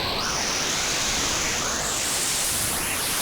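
A radio's broad frequency finder in Plane Mechanic Simulator gives off loud, steady hissing static, with faint sweeping whistles as the tuning moves.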